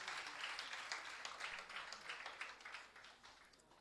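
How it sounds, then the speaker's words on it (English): Guests at a celebration give a woman a round of applause, steady, moderately distant clapping from a modest crowd that pulses and slowly fades over a few seconds, without speech. "A round of applause for her once again"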